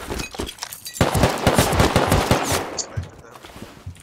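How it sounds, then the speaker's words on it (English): Rapid bursts of automatic gunfire from a video game shooter crackle in dense, repeated volleys, loud and close, thinning into scattered shots toward the end. "I need to shoot him."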